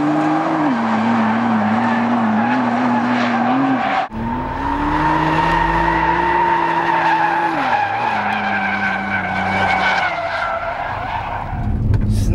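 A Nissan GT-R at full throttle spins its tires, producing a long, loud, continuous squeal with the engine roaring underneath, the pitch shifting as it holds the burnout for several seconds.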